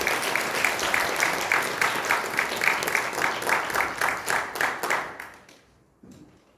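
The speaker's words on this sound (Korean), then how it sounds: "우리 강사님 2호 목사님 나오실 때 뜨겁게 박수로 환영합니다." Audience at a church ministers' prayer gathering applauding warmly to welcome a speaker to the stage, a dense, steady burst of many clapping hands that fades away near the end.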